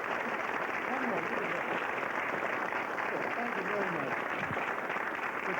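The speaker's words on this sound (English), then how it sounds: "I should bow to tremendous applause" An audience claps and applauds after a magic trick at the Magic Palace, a steady dense wash of clapping mixed with a crowd's murmur and voices throughout.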